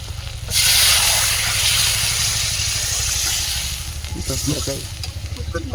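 Potatoes stirred into mutton curry masala frying in a pan, with a loud steady sizzle close by and scraping stirring strokes that turn rhythmic toward the end.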